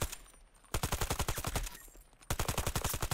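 Automatic weapon fire in Battlefield 2042, two long bursts of rapid, evenly spaced shots separated by a short pause, loud and close with no talking.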